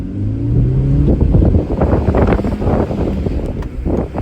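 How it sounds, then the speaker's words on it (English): A Kia Picanto pulls away from a standstill in first gear, its small engine droning and rising as it accelerates, with heavy wind buffeting and the rumble of the road close by. "let's test how quick this car is. You know, we're from a stop, gear 1, let's see how fast it goes"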